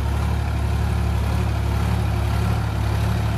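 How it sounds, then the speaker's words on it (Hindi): A Sonalika 35 tractor engine idles steadily up close, a constant low diesel rumble with a strong throbbing fundamental, continuous and unchanging throughout with no voices. "39 हाउस वाले ट्रैक्टर ये लिया 7 फुट का रोटेटर"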